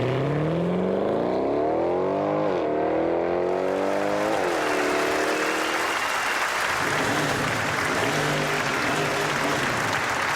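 A heavy German grand tourer's engine accelerating hard, its note climbing through gears with shifts audible, then building into a loud roaring rush of engine and wind.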